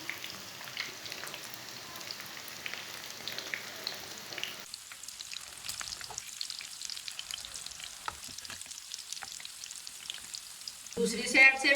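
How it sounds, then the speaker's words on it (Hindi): Food frying in a pan on a home kitchen stove after being flipped to cook the second side, a continuous crackling sizzle with dense spitting pops, a brief stirring or turning clatter near the end. "दूसरी साइड से भी 2 मिनट तक फ्राई कर लेंगे"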